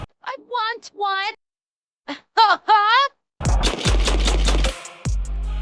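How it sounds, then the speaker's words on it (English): An AA-12 automatic shotgun fires a loud, rapid, continuous string of blasts lasting about two seconds. Voices talk and exclaim just before the burst. "Finally getting to shoot an AA-12"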